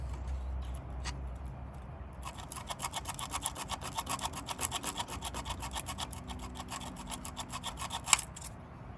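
Sandpaper scrubs dirty ignition points on an abandoned 1957 Farmall tractor, a dense rasping scrape that starts after a couple of seconds and continues in quick, steady back-and-forth strokes, close and fairly loud.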